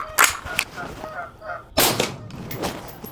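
Rifle fired through a Banish Speed K suppressor: two sharp, muffled cracks about a second and a half apart, each with a short rough tail, close and fairly loud.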